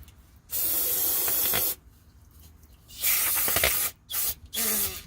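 Cleaner sprayed into an engine during an oil change, heard as loud hissing aerosol bursts, one long and several shorter, separated by quiet pauses.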